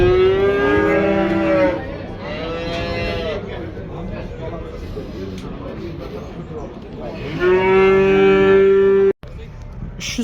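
Cattle at a livestock market give several long, loud, close moos, one after another with pauses, while people talk nearby.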